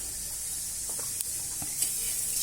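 Cumin seeds crackle and sizzle in hot oil in a pan, a steady hiss with a few faint pops, close by and without talk.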